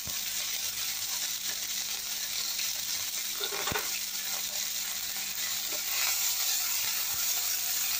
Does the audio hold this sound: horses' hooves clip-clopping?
no